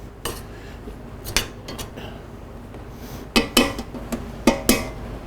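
A spoon stirs a roux of flour, oil and butter in a pot, giving sparse metallic clinks and scrapes against the pan, clustered more densely toward the end, close and sharp over quiet background.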